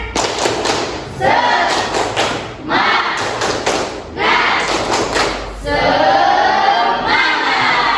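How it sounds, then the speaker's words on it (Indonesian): A high-school class in Indonesia doing a rhythmic spirit clap, loud close bursts of group clapping in repeated patterned phrases separated by short gaps, with some voices mixed in. "Yuk, tepuk semangat."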